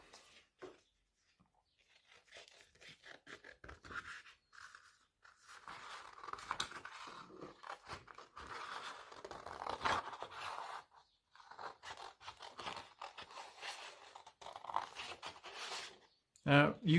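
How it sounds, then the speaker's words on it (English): Scissors snip out paper shapes of snow-covered mountain peaks for a pop-up landscape, a series of soft, close cutting crunches and rustles in bursts with pauses, and talking over parts of it. "So I'm going to cut those out."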